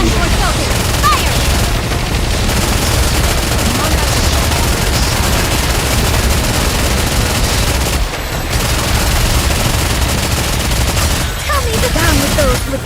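Sustained volleys of gunfire rattle through a battle in the Nikke video game, dense and loud with brief lulls, layered under music and shouted voice lines.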